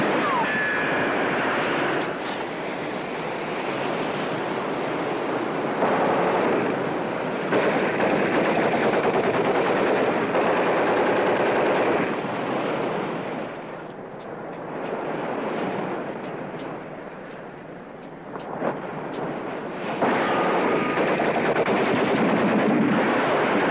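Sustained gunfire roars through a 1952 film shootout, a dense, loud barrage that runs almost continuously with brief dips and surges, with no talk over it.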